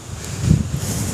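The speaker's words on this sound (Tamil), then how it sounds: "காற்று சரியான காற்று அடிச்சிட்டு இருக்கு" Strong wind gusts buffet the microphone on a hill trek up Kondarangi malai, a steady low roar and rustle that swells in the middle of the short stretch, with no one talking.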